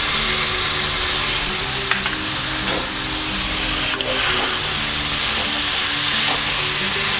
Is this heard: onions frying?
yes